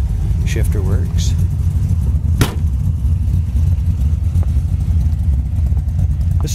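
A 1968 Ford Mustang with chrome dual exhaust tips sits running, its engine giving a deep, steady, close rumble that holds even throughout, with no clear revving.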